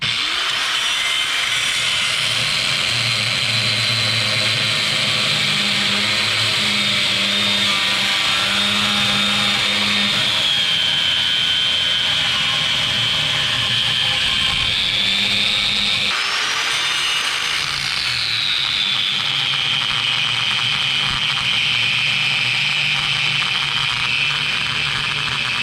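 Angle grinder with a worn blade cutting metal on a Honda Nighthawk motorcycle being turned into a 450cc dual sport, a loud continuous high whine close by that shifts pitch as the load changes, steady throughout with no talk.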